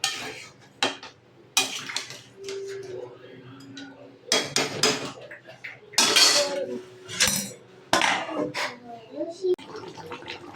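A metal pot of meat curry with potatoes and water is handled and covered with its lid, producing several loud clanks and clattering knocks in bursts, while a voice talks intermittently.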